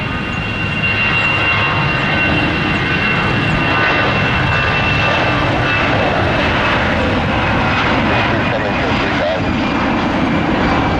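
Airbus A320 jet airliner in blue fuselage livery at an airport, giving a steady, loud broadband engine roar that holds throughout with no pause.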